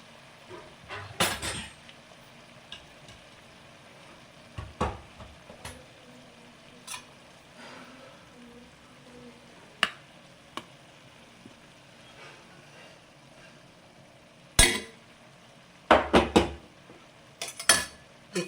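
Ragi vermicelli is added to a pan and stirred, giving scattered metallic scrapes and clinks of a spoon against the pan, with a busy cluster near the start and more toward the end over a quiet background.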